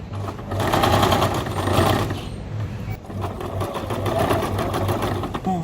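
A sewing machine stitching a polo shirt runs in close, steady whirring bursts with a short pause midway, and a voice is heard over the motor.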